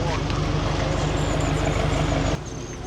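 A boat engine drones steadily at close range with a strong low, rhythmic throb, then drops abruptly in level near the end as if throttled down or cut.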